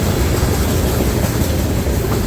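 A Norfolk Southern freight train with gondola cars rolls past close by, a loud, steady rumble and clatter of wheels on rail that fills the whole clip.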